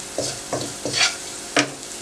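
Salt, chilli and turmeric powder fry in oil while a spoon stirs them, making four distinct scraping strokes over a soft sizzle, close up and with no voices.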